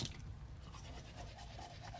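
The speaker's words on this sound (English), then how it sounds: "Then I brush my teeth." A child's toothbrush scrubs teeth at home before bed, giving a soft, close, steady rhythmic bristle scrubbing that is quiet and heard alone.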